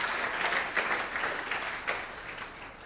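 Steady audience applause fills a Dutch city debate hall, dense and sustained at moderate loudness for the whole stretch, with no voices over it.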